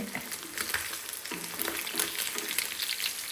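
Oil sizzling in a pan, readied for frying Kerala-style fish, crackles continuously and close by with small spitting pops, with no talking.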